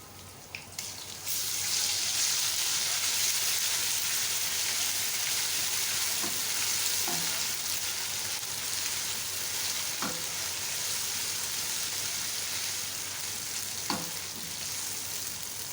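Steady, loud sizzling of garlic, ginger and green chili paste frying in hot oil, with occasional soft knocks of a utensil stirring in the pan.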